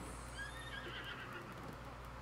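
A horse in The Legend of Zelda: Breath of the Wild whinnies over a steady low game hum, with faint hoof clip-clops in the background.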